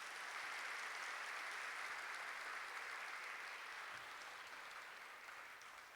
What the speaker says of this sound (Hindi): ताली बजाओ जरा अच्छी तरह से,